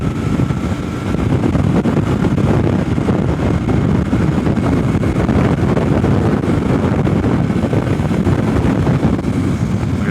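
A Yamaha MT03 motorcycle from 2021 pulls up a hill in a high gear, a steady loud engine drone blended with heavy wind rush, with no talking.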